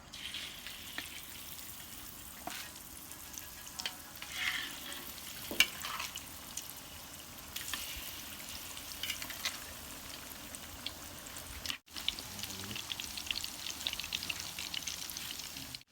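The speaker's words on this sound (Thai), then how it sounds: "ตอนนี้น้ำมันเราก็ร้อนนะครับเอาไก่ใส่กระทะได้" Steady sizzling and crackling of chicken frying in hot oil in a pan, a continuous close hiss with small pops, no voices.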